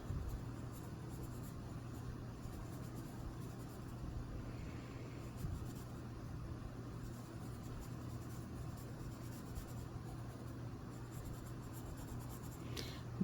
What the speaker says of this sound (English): Let there be some funny scratchy lines with my sharp